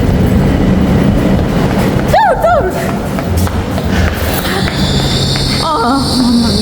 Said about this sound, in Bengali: ওইটাই আমাদের ট্রেন মিস করবো নাকি